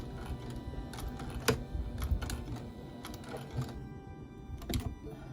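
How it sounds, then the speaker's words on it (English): A sewing machine back stitching a daisy quilt runs in short, quiet rattling bursts separated by brief pauses, with no talking. "And then I'm going to back stitch."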